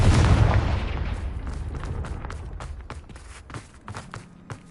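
A Confringo fire spell explodes in Hogwarts Legacy with a heavy, close blast that rumbles and decays for a couple of seconds, followed by a run of quick, light impacts and steps.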